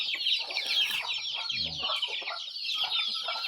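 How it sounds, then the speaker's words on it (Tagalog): Chicks peeping shrilly and continuously close by on a free-range farm, with a hen's low clucks briefly joining in the middle. "So may mga sisiw na naman ulit tayo nagpisa doon."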